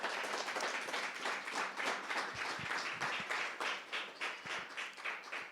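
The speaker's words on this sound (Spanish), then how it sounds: "Dele un aplauso al Señor" A church congregation applauds during a sermon, a fairly faint, continuous wash of many hands clapping with a few louder claps near the end.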